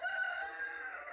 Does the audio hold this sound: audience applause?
no